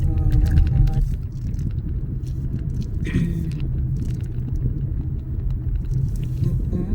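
A vehicle engine labours up a very steep climb, a deep low rumble that holds steady throughout with faint voices above it.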